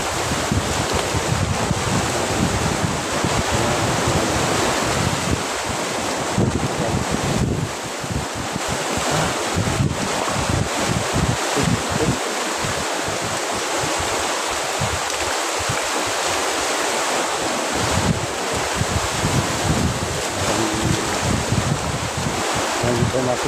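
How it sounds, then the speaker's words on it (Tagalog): Stormy seaside surf pounds steadily in a dense, unbroken roar, with strong gusts of wind rumbling across the microphone throughout. "ang hampas ng alon"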